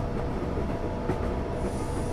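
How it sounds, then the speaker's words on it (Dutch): In Train Simulator 2016 on a London route, a train comes in on the left-hand track. It makes a steady, loud rumble of wheels and carriages, with faint rail squeal and no talking. "Hey, maar links komt ook nog een trein binnen."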